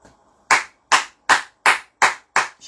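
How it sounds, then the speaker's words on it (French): Seven sharp, evenly spaced hand claps ring out alone at a steady, deliberate pace, each one crisp and close. "Je t'applaudis."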